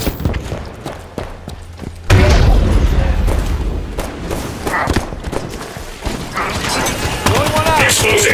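Grenade blast in Halo 5: Guardians Warzone on Escape from A.R.C.: a sudden loud boom that cuts in and rolls into dense rumbling battle noise with scattered gunfire and clanks, loud and close.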